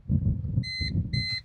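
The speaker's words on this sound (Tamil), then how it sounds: "2 டைம் பீப் சவுண்ட் வந்துருச்சு." A Tata Ace EV electric mini truck gives two short electronic beeps as it is shifted into reverse, clear tones over a low idle rumble of the cab.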